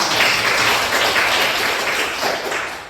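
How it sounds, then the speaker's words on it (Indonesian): Classroom students applaud together, a steady wash of many hands clapping at moderate loudness for a few seconds, with no speech over it. "Boleh tepuk tangan."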